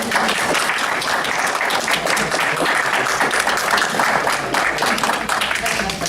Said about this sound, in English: can we give your parents and your family and friends a round of applause